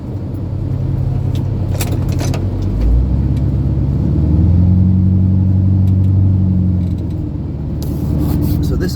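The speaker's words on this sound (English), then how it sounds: "Hear the blade hopping over the transitions in" Steady low engine rumble from a snow plow truck working grades, with a faint knocking as the plow blade hops over grade transitions; a shift in engine tone midway, continuous and close.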